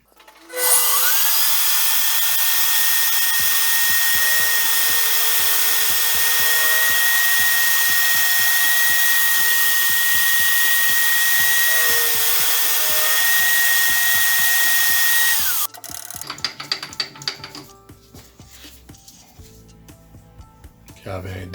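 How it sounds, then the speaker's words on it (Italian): An 8 mm roughing end mill cuts a key slot into a metal workpiece on a milling setup, giving a loud, steady whine with rhythmic ticking for about fifteen seconds before the cut stops and a few clattering knocks follow. "la fresa da sgrosso di 8, così facciamo una cava per poter inserire la chiave"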